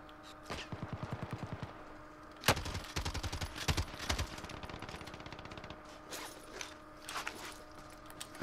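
Gunfire rattles through a Call of Duty match in short rapid bursts, then one sharp, louder report stands out before more clattering volleys follow. The shots sound moderately distant and fairly quiet over a faint steady background.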